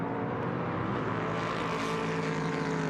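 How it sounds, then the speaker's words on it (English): Prototype Cup race car engines growl at the Lausitzring circuit in Germany, a continuous loud droning roar with steady harmonic tone and a slight rise in pitch, heard alone without commentary. "Trying to leave some space so you can hear the growl of these engines"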